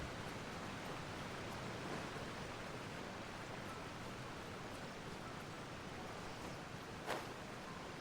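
Waterfall water in the Genshin Impact video game rushes as a faint, steady broadband wash throughout, with a single soft tick near the end.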